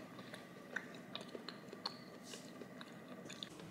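Close, quiet chewing of a sweet potato macaron with a not-too-sweet filling and crisp shell: scattered soft crunches and bites over a low background hiss, with no talking.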